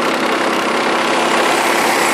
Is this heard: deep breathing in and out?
no